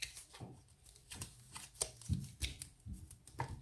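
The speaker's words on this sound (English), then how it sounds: "And let's get this tape off." Sticky tape being peeled off a gantry locker, heard as a run of short crackling, ripping pulls at close range, with quiet scuffing and handling between them and no talk.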